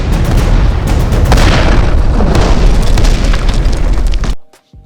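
A huge aerial explosion from a VFX sound design rumbles as a dense, loud, continuous blast with deep booming low end and crackling debris for over four seconds, then cuts off abruptly to near silence.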